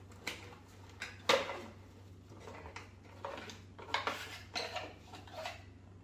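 Metal clinks and knocks as the metal milk jug from a Breville 878 espresso machine is handled up close during unboxing, with several sharp taps spread out over a quiet hum.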